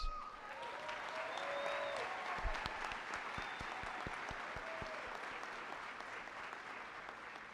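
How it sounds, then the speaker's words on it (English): Audience applause at a high school graduation ceremony for East High in 2018, a sustained crowd of clapping hands with scattered individual sharp claps standing out, fairly distant and even throughout, with a faint voice briefly audible. "I think they also deserve an exceptional round of applause."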